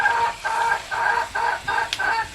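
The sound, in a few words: chickens clucking in the background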